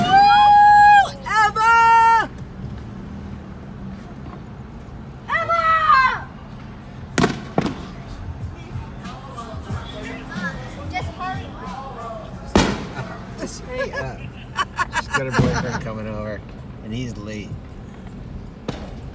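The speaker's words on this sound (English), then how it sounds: "Random guy setting off fireworks in his backyard here." Fireworks set off in a backyard go off in a few sharp, echoing bangs at irregular intervals, some way off, while people talk throughout.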